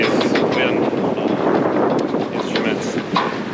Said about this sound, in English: Winds have really picked up.